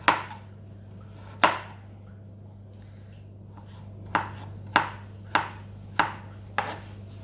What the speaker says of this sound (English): finely slice your bits of ginger as small as you can